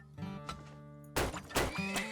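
A horse in the game Turmoil whinnies twice, a short neigh followed by a louder, brighter one, clear and close against a quiet background.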